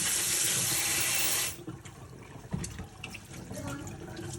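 Water running from a kitchen tap, a steady loud hiss for about a second and a half before the flow cuts to quieter splashing and handling sounds.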